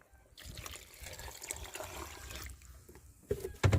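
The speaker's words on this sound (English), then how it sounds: "See coconut juice here now." Coconut juice is poured into a cooking pot for Jamaican rice and peas, a trickling, splashing liquid stream that swells and fades, ending in a few louder splashes, close by.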